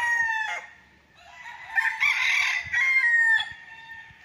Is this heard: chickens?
yes